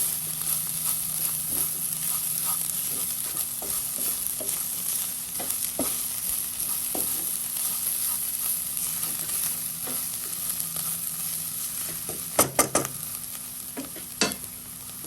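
Banana flower thoran stirred in a frying pan, a steady soft sizzle running throughout with scattered scrapes of the spoon and a few sharper clinks near the end.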